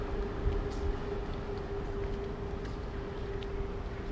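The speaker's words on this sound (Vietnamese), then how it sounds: "Đó, tiếng là tiếng tàu điện ngầm." A subway train in Singapore rumbles past, a steady low roar with a constant tonal whine running through it, continuous and fairly loud for the whole stretch with no speech.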